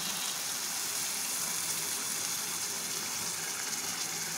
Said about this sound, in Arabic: حط عليه ماء